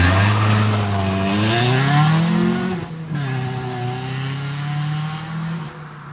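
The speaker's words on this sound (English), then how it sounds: "I decided to give it a nice hard launch like I'm going to do at the Freedom Factory." A car makes a hard launch at home, its engine revving loud and close with the exhaust on, pitch climbing steadily through the gears with a brief dip at a shift before rising again.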